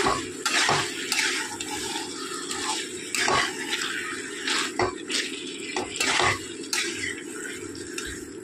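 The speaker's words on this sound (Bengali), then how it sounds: "কালারের জন্য একটু কাশ্মীরি লঙ্কার গুঁড়ো দিয়ে আবার ভালো করে কষিয়ে নেব" Chicken curry masala with Kashmiri chili powder being stirred and scraped in a pan, spoon knocking against metal in irregular clatters and scrapes over a soft background hiss, with no talking.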